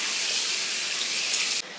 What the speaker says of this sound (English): under cold water, I want to rinse my bird